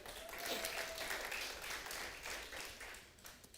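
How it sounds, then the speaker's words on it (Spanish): A church congregation gives a round of applause during a service, a soft, continuous patter of many hands clapping, heard faint and steady throughout. "Si quieren darle un aplauso, déselo."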